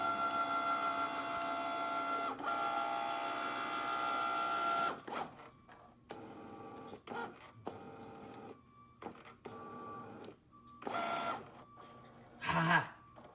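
A Cricut Maker machine runs a print-and-cut job, whirring steadily for about five seconds, then sounding in short motor bursts and clicks separated by near-silent gaps, with a sharper burst near the end.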